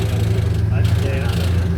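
A croc-spotting tour boat's engine in the Northern Territory hums at low, steady pitch as the boat is repositioned, a continuous close drone without breaks.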